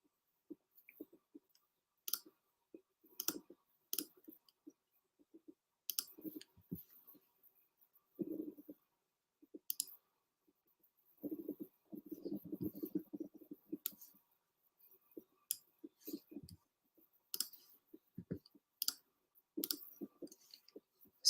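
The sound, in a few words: computer mouse clicking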